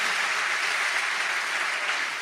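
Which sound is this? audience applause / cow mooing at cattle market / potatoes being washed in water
audience applause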